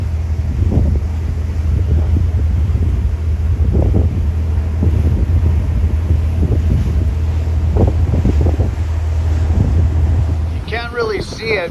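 A ferry cruises among floating ice chunks near Valdez, Alaska, with a loud, steady engine rumble and heavy wind buffeting the microphone throughout; a voice speaks briefly near the end.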